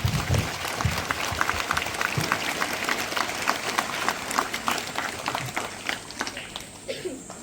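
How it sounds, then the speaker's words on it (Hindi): A congregation claps loudly and steadily at a Catholic priestly ordination ceremony in a parish church, with dense, continuous applause that fades slightly toward the end. "जोर से ताली भी बजाए दो आप।"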